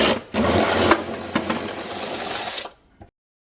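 Bolts on the battery clamp of a 2015+ Jaguar XE are loosened with a 13 mm tool. A close, continuous rasping ratchet whir lasts about two and a half seconds, then stops.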